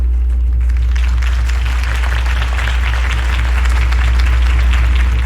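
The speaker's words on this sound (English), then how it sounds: "could have heard that applause" Dense, sustained crowd applause fills a large hall after Harvey Dent's campaign speech in the Batman Telltale video game, steady and loud from start to finish over a low rumble.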